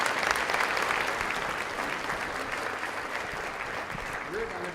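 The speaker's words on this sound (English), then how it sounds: "Give a big round of applause." An audience at a 50-year anniversary celebration gives a big round of applause, steady and full for several seconds, with a voice briefly speaking near the end.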